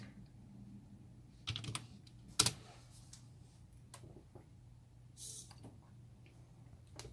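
Typing on a computer keyboard at a home security system demo, with faint, sparse key clicks and a couple of sharper taps over a low room hum.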